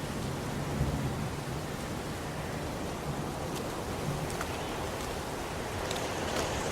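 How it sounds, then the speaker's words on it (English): Steady rain falling outdoors in a video game scene, a dense continuous hiss with faint low rumbles of distant thunder underneath and no voices. "Little rain never hurt nobody."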